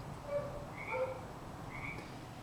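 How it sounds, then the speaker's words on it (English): A pet frog croaks faintly a few times, each call a short, chirpy note spaced apart over a steady low background hum, with no talking. "I can't believe these idiots have a frog."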